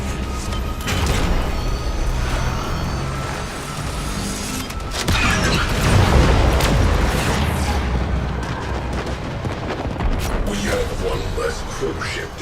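A cruise ship reactor detonates during a Warframe Railjack space battle: a heavy boom and rumbling blast swell midway through a dense, noisy mix of combat sounds, with voices talking over it.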